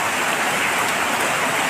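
Steady rain falls close by, a dense even hiss of drops with no pauses and no voices for the whole stretch.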